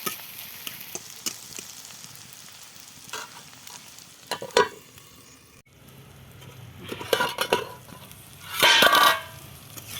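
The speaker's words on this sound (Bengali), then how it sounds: "নেড়ে চেড়ে আবার নামিয়ে নেব" Egg frying with spring onion greens in a pan, stirred with irregular scrapes and clatters over a continuous sizzle, with a louder burst of sizzling near the end, close by.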